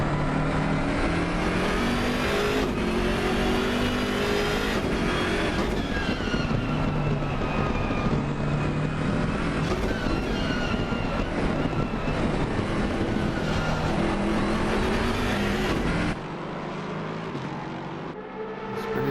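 Race cars in Assetto Corsa Competizione at Zandvoort roar continuously at high revs down a short straight, with engine pitch rising through gear changes and a sudden drop in level near the end.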